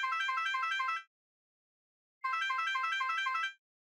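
A synthesizer plays rapid repeated major-chord arpeggios that mimic a telephone ringing, in two bursts of about one second each separated by silence, bright and clean with no voices.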